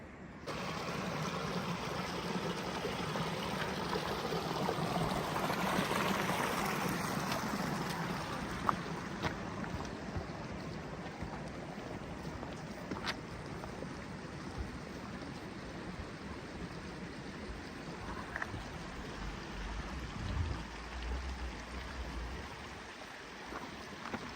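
Ice-cold glacier meltwater stream high in the mountains of Gilgit-Baltistan, a continuous broad rushing flow heard close by and steady throughout, with no talk.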